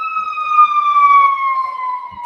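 An emergency vehicle siren passes outside, a loud steady wail that slowly slides down in pitch as it moves away.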